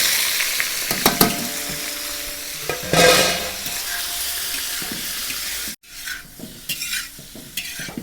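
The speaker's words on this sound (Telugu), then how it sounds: "ఇప్పుడైతే మనం ముందుగా కోసుకున్న పన్నీర్ ముక్కలు అయితే ఇందులో అయితే వేసుకొని ఫ్రై అయితే చేసుకోవాలి." Paneer cubes frying in hot ghee, with steady sizzling and occasional stirring clatter throughout, a brief louder burst midway and a short dip before the frying resumes.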